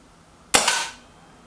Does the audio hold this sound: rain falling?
no